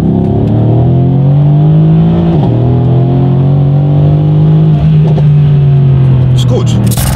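A Mercedes-AMG 4-litre engine pulls hard under acceleration, its deep droning harmonics climbing steadily and dipping at a shift, with talking inside the car.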